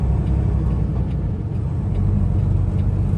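A Peterbilt truck's engine cooling fan runs as a steady, loud whooshing drone with a low rumble underneath, continuous and unbroken throughout while the truck sits parked during a snowstorm in Canada.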